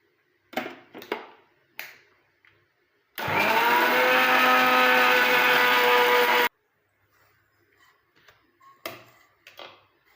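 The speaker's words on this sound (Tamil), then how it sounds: "இப்போது இது அப்படியே வந்து நம்ம நைஸ் பேஸ்ட்டாக வந்து நம்ம அரைக்க போகிறோம்" A mixer grinds potato into a fine paste, its motor starting abruptly into a loud, steady whir for about three seconds before cutting off, with light clatter and handling knocks before and after.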